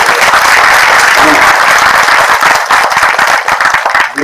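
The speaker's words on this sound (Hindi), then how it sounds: "एक बार बोला ताली बजा" An audience claps and applauds loudly and continuously at a Hindi Pakhwada event at NITTTR Bhopal, a dense wash of hands filling the hall and tapering slightly toward the end.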